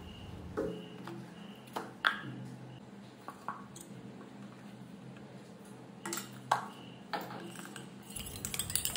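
Two cracked eggs with turmeric and salt being beaten in a bowl, with intermittent sharp clinks and taps of a utensil against the bowl, scattered and fairly quiet, no talking.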